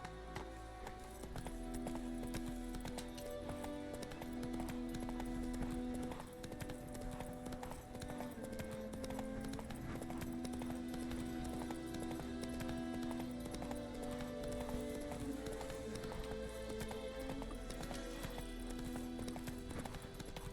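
Roach the horse gallops in The Witcher 3, rapid rhythmic hoofbeats drumming steadily for the whole stretch under sustained music tones, close and even-paced with no break.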